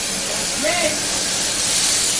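A burger patty sizzles on a grill after being flipped, a steady loud hiss of frying throughout with a brief tonal squeak partway through.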